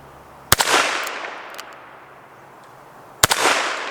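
Two sharp gunshots from a Smith & Wesson 648 .22 Magnum revolver fired at a steel hostage popper target outdoors, spaced about three seconds apart, each loud crack trailing into a brief ringing echo.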